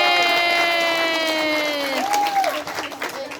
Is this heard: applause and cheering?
yes